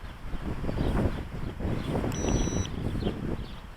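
Wind gusts buffet the microphone outdoors near trees during a windy-day Eachine H8 Mini quadcopter flight, a loud, rumbling, uneven roar with faint high motor whine briefly audible.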